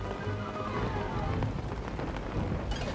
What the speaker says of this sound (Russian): От дождя нужно прятаться